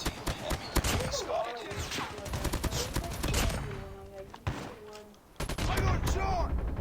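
Rapid bursts of gunfire in the mobile shooter Call of Duty Mobile, loud and dense with overlapping shots and short pauses, mixed with in-game voice callouts.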